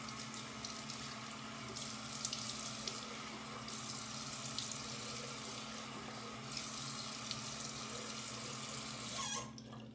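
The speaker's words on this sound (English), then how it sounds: "so I'm gonna wash this off." Tap water runs steadily from a faucet into a sink during face washing, a continuous hiss lasting the whole stretch before cutting off at the end.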